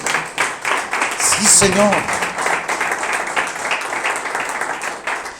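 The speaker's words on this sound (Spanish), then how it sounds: "Puedes dar un aplauso a Jesús." A church congregation claps, producing scattered, moderately loud applause throughout, with a voice calling out briefly over it near the start.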